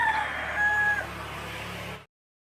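A rooster crows with a sustained, fairly loud call that tapers off after about two seconds, then silence.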